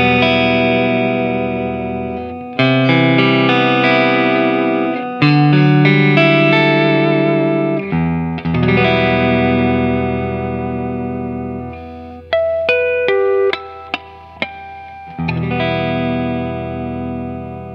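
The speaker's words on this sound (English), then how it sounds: "let's just try a few clean arpeggios" A Vox Bobcat hollowbody electric guitar with a Bigsby plays clean arpeggios on its neck pickup, ringing picked chords that change every couple of seconds, with a run of quick single notes midway, sustained and reverberant, no voices.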